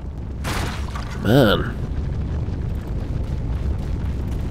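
Fiery blasts from a fire attack in the UFO: Extraterrestrials video game: a loud whooshing burst and a short ringing flare, followed by a steady roaring rumble, with someone speaking briefly over it.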